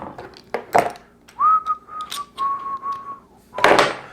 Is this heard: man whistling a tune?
yes